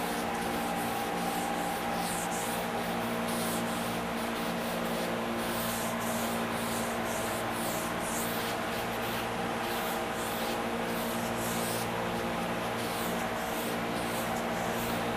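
Sun-bleached gray stain is rubbed by hand into MDF crown molding, a continuous close scrubbing and wiping texture with rhythmic strokes throughout, no voices.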